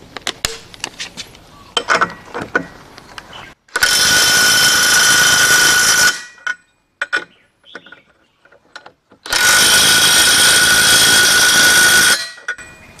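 Air impact wrench with an impact socket loosening a nut, two long loud bursts of steady hammering rattle of about two and a half seconds each, separated by quiet gaps with small clicks and handling noises.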